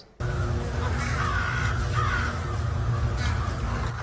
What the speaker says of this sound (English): you've seen these birds, these crows in the wintertime